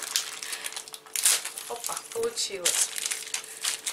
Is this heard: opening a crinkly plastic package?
yes